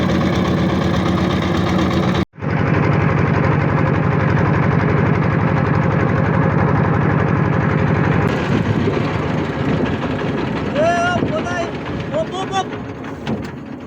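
A motor boat engine chugs steadily and loud on the Padma river near a sandbar in Rajshahi, cutting out for an instant before resuming, with faint voices near the end.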